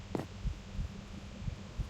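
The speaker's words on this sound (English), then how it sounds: "Can even hear the heartbeat outside of the water." Heartbeat effect in Minecraft: soft, low thumps repeating at a steady pulse under a constant hum, with a brief brighter click early on and no talking.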